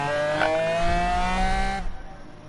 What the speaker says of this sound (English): You can just hear the power of that V12 engine McLaren